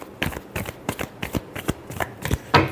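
Tarot cards shuffled by hand in a series of quick riffling bursts with a sharp closing snap, close and clear with no talk over them.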